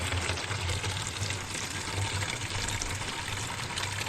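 Clean spring water flows out at a hillside spring, a continuous close gushing and splashing that stays even throughout with no talk.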